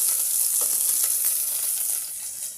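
Garlic and onion sizzle and fry steadily in a hot pan for a noodle soup, a continuous loud hiss with no voices.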